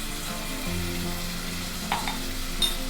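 Tomato, onion, ginger-garlic paste and turmeric sautéing in a pan give a continuous moderate sizzle with a low hum beneath and a couple of brief scraping clicks near the end.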